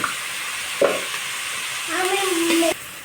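Onions are fried and stirred in a pan with salt, a steady sizzle under intermittent scraping strokes of a utensil, close and moderately loud.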